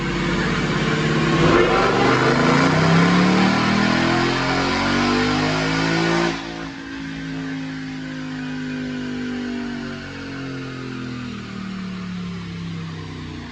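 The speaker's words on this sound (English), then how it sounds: "Check out this dyno pull." A supercharged 2020 Ford Mustang with a Roush Phase 2 kit and automatic transmission revs hard on a DynoJet dyno, a loud rising engine roar that cuts off abruptly halfway and falls to a lower, fading drone with no talk.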